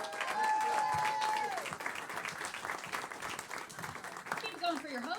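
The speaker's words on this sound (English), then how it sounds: "Big round of applause." Comedy club crowd applauding and cheering a comic being introduced, a full wash of clapping with a whistle early on, settling into steady applause as a voice speaks over it near the end.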